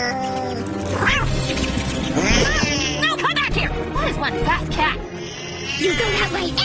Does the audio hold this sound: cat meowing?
yes